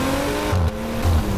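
A Maserati SUV with a 430 hp twin-turbo engine drives by, its engine note a steady, fairly loud tonal hum with brief low rumbles, heard alone.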